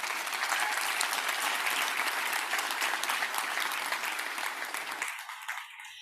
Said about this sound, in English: Now I want you to give yourself a round of applause because I have a lot of respect for you.